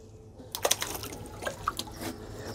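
A shark fish is released into water, making a few short splashes and drips close by against a quiet background.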